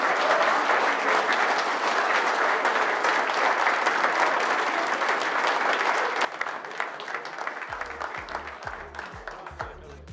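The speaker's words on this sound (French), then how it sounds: "je vous demande vraiment d'applaudir sincèrement tous les commissaires de pêche." Audience at an international coarse-fishing competition at a lake applauds the stewards with sustained, dense clapping that fills the space, easing after a few seconds into thinner, scattered claps.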